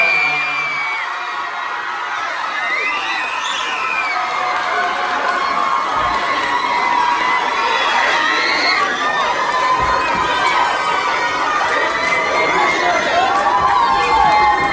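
A crowd at a dance competition in Saint-Saulve cheers and shouts loudly for the second-place dance group, high children's voices and whoops rising in a dense, continuous roar that holds steady throughout.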